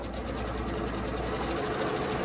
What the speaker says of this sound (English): So all I'm gonna do is get it sewing.